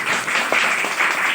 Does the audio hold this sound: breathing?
no